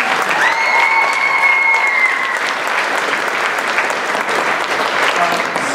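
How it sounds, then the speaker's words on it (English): A school musical audience in a packed auditorium claps loudly and continuously throughout, with a faint whistle-like tone rising briefly over the sustained crowd applause near the start. "but give him a big round of applause."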